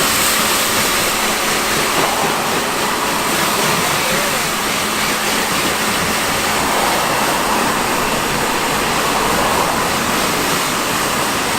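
Steady, close hiss of water spraying over a car during a wash, running as a loud continuous broadband rush for the whole stretch with no break.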